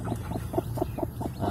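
Saigon-breed chicks peep in a home poultry setting, a rapid regular series of short, thin calls close by, with no talk.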